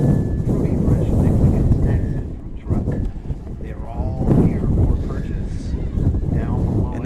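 Gusty wind buffets a microphone at an outdoor youth football field in Oxnard, giving a loud, steady rumbling roar with brief dips, and a voice talks over it.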